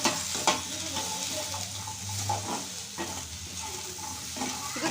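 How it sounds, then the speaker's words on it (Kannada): Okra (bhindi) frying in oil in a pan makes a steady, moderate sizzle broken by scraping stirs and light clinks, close up with no talking. "ಬೆಂಡೆಕಾಯಿನ ಚೆನ್ನಾಗಿ ಫ್ರೈ ಮಾಡ್ಕೋಬೇಕು."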